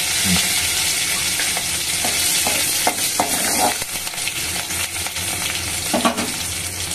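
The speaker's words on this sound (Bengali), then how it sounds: "শুকনো লঙ্কা এমন জিনিস না, একটু ভেজে দিলে গন্ধটা ভালো হয়" Dried red chilies frying in hot oil in a pan, a bright steady sizzle with intermittent stirring scrapes and knocks, close and fairly loud throughout.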